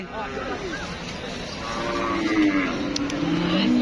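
Cattle moo at a busy cattle market, one drawn-out low call rising over a steady murmur of crowd noise and voices.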